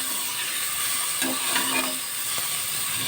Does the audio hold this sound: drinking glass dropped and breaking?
no